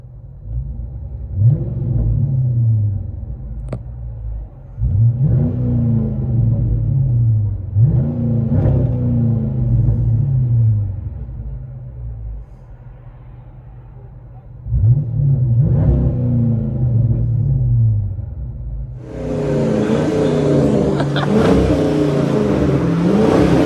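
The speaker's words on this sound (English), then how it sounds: "Chrysler 300C HEMI. Let you guys hear on the inside." A 2005 Chrysler 300C with a 5.7L HEMI V8 and dual Flowmaster Outlaw exhaust, heard from inside the cabin, revs in four loud, deep bursts that rise and fall, then holds a sustained higher roar.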